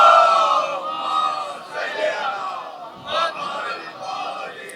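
A large gathering at a religious majlis loudly recites salawat together, a swelling wave of massed voices in unison that rises and falls over several seconds.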